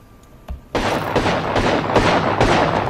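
Guns fire during a firefight in the Apex Legends video game. After a faint early shot comes a loud, steady stream of rapid shots, some with booming hits, that carries on to the end.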